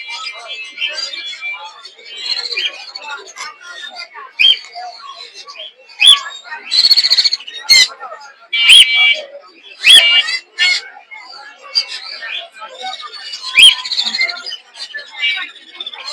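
Many pet birds and pigeons chirp, tweet and squawk in overlapping bursts, with people talking nearby in a busy, crowded bird market in Mirpur.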